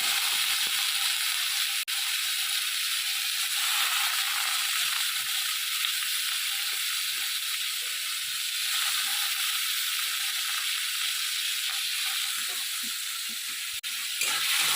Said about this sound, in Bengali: সামান্য পরিমাণে তেল দিয়ে দিলাম আলুগুলো ভেজে নেব